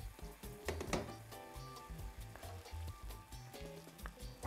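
Meat and onions sizzling in a frying pan for a Puerto Rican jibarito sandwich, a steady close crackle with low clunks of the pan and stirring throughout.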